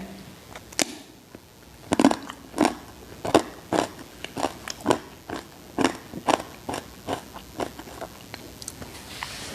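Crunchy nacho chips dipped in cheese dip being bitten and chewed up close, a steady series of loud, crisp crunches about every half second.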